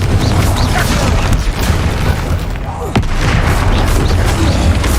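Bombarda blasting spell from Hogwarts Legacy, a loud booming explosion with heavy low rumble, one sharp burst standing out from a dense, continuous roar of combat noise.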